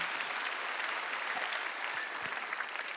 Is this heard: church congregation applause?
yes